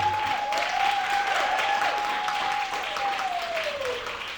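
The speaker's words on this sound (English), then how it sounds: "a big round of applause for our special guest speakers" Audience applause for guest speakers at an epilepsy awareness event, a dense steady roar of clapping lasting several seconds with a sustained feedback-like tone ringing over it, fading slightly at the end.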